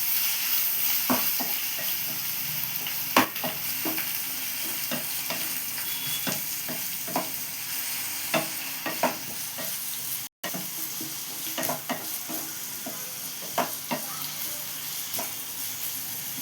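Ground shallots sizzle steadily as they are sautéed in a pan for hotel-style vegetable kurma, a soft continuous frying hiss broken by regular light clicks of stirring.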